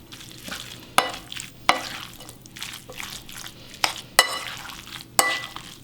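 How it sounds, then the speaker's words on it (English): Beet salad stirred with mayo dressing in a bowl, a run of wet, squelching mixing sounds with several sharper clinks of the utensil against the bowl, close and moderately loud. "And we're just gonna mix that."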